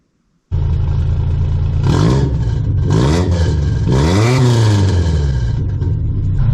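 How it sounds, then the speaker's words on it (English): A mini truck engine breathing through a single chamber Flowmaster muffler starts abruptly and is blipped through three or four throaty revs, loud and close, with no voices. "That's a single chamber Flowmaster, by the way, in case I failed to mention it. Gives it kind of a nice little throaty sound."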